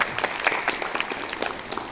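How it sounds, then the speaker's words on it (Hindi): An audience at a yoga training session in Motihari breaks into lively applause, a dense patter of many hands clapping close by, with some voices mixed in. "बहुत जोरदार ताली, बहुत खुश हुआ।"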